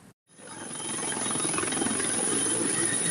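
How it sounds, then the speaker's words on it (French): A Cameroonian army helicopter sets down on the tarmac at Bafut international airport, its steady loud rotor and engine roar carrying a high whine and swelling after a brief silent gap. "Sur le tarmac se pose un hélicoptère de l'armée camerounaise"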